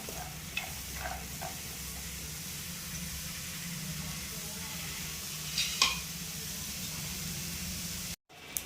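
Nalleru (veld grape) stems dry-roast in a pan without oil, giving a steady soft sizzling hiss with a few light scraping stirs, continuous and close until an abrupt cut near the end.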